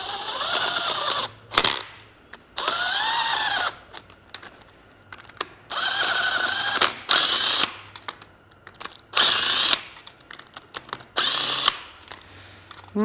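On a Suzuki GSX-R 600/750 engine case, a power tool gun runs bolts down in six or seven short whirring bursts separated by brief pauses and faint clicks.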